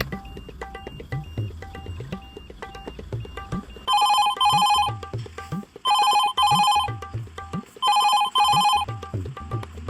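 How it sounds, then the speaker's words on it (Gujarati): A telephone rings with an incoming call in three bursts, each a pair of bright electronic trills, spaced evenly and loud over a low background of chatter and rumbling noise. "એ બધા તારા પપ્પાનો ફોન આવ્યો"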